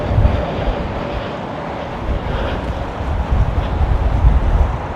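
Boeing 747 jumbo jet arriving on Heathrow runway 27L, a steady broad roar of engine and wind noise filling the whole stretch, rising slightly toward the end with gusty buffeting on the microphone.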